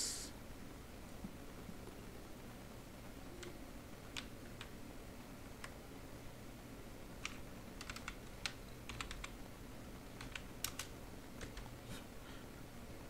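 Commands are typed on a computer keyboard in quiet, scattered bursts of sharp key clicks, some struck in quick clusters, with a faint room hiss behind them.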